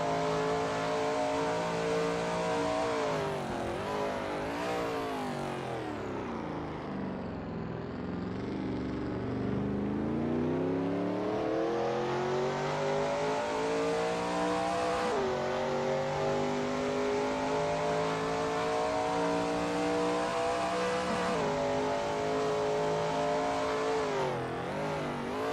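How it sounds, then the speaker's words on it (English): Shelby Mustang GT350R lapping Sebring in a racing video game, its engine droning loudly and continuously, revs sweeping up through the gears, dipping through a bend and climbing again, with no voices. "David Zahn is driving through Gurney Bend."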